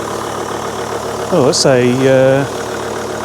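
A Volvo XC90 diesel engine runs just after starting up, a steady low idle drone throughout, with someone speaking briefly over it midway.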